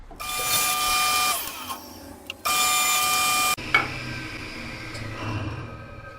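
A saw with its blade tilted to 45 degrees rips straight strips from a wooden board, two loud whining cuts with a steady high-pitched tone, a short gap between them, then a quieter rumbling run-down.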